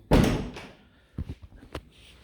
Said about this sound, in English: I'm just going to push the door to